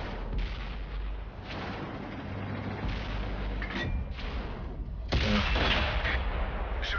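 Artillery fire in the World of Tanks video game, a dense continuous rumble of distant booms and blasts with sharper impacts toward the end, loud and unbroken without speech.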